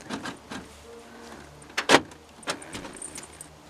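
Car keys jangle and clatter in a few sharp bursts against a car door that won't unlock, with one louder metallic clack in the middle, close and otherwise quiet.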